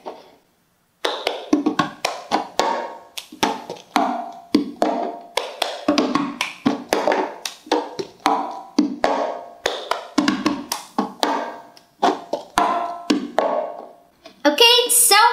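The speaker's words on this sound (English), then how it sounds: "The cup song will sound like this when it's put all together" A cup song is played with a plastic cup on a table. Sharp claps, cup slaps and table taps follow one another in a quick, steady, repeating rhythm that sounds close and clear, with no talking over the pattern.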